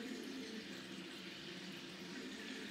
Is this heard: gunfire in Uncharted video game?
no